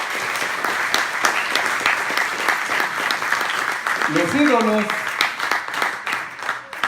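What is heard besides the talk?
congregation clapping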